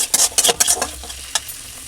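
Chicken pieces drop into a hot frying pan with ginger, bursting into several quick sharp sizzling crackles over about a second before settling, close up and loud.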